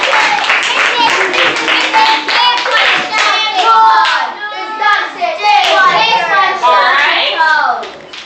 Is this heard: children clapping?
yes